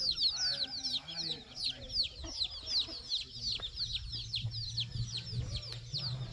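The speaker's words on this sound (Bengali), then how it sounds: "মুরগি হাঁসের বাচ্চা দেখতে পাচ্ছেন একই সাথে হাঁস এবং চীনা হাঁস এবং মুরগি দেখতে পাচ্ছেন" Chickens cluck and chirp steadily among ducks and Chinese ducks with chicks in a hill village, a busy layered fowl chorus close by with a low rumble underneath.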